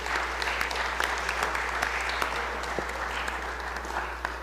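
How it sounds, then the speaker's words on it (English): Sustained applause from an audience in the Mississippi House chamber, a dense steady patter of many hands clapping together, loud and continuous for several seconds with no talking over it. "will you please give these ladies a beautiful round of applause"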